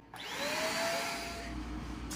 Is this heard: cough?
no